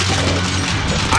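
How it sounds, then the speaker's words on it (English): Grenade blast in the zombie shooter World War Z, a loud, dense boom and crash filling the short moment from start to end. "Grenade out!"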